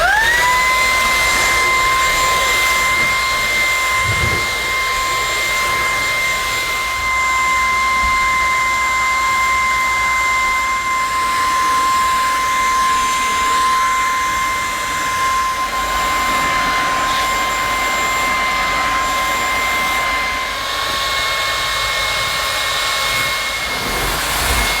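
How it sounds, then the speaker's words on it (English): A Lupe Pure cordless vacuum cleaner with an upholstery nozzle runs continuously for a long stretch, a loud, steady high-pitched motor whine with a constant airflow rush and small fluctuations as it works. "I can use the Lupe Pure Cordless for my above floor cleaning jobs."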